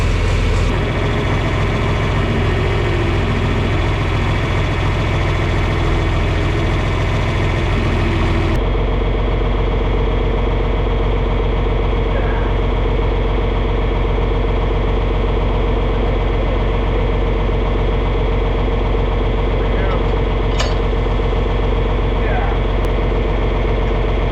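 A farm tractor's diesel engine idles steadily while warming up before switching over to a disc implement, a continuous low rumble throughout, louder in the first few seconds then settling into a steady hum with faint background sounds.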